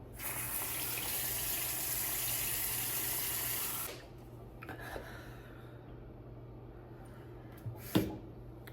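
Water runs steadily from a tap into a sink while face cleanser is washed off, loud and constant for about four seconds before stopping, followed by faint dripping and small handling sounds.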